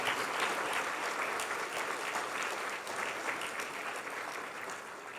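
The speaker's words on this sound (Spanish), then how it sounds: "Pero sigan aplaudiendo." Congregation at a church service applauding steadily while standing, a dense continuous wash of clapping from many hands that holds level throughout and fades only slightly at the end, with no one speaking over it.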